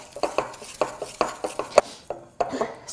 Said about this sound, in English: A bit of stirring here.